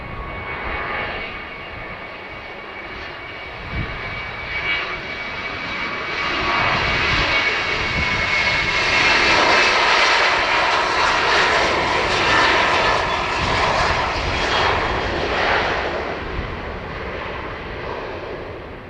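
A China Eastern jet airliner taking off from Dublin Airport, a broad engine roar that swells as it rotates and climbs, heard from a distance as a long, steady rumble rising to a peak and easing slightly, with no talking.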